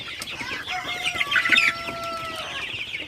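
Sonali super hybrid chickens cluck steadily in a farm shed, a dense overlapping chorus of several birds with a louder burst of calls near the middle.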